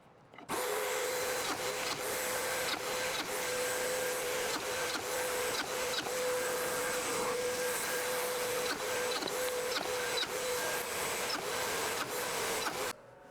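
Drilling holes in face frame boards: a steady whining motor runs close and loud for the whole stretch, broken by repeated short pauses and bursts.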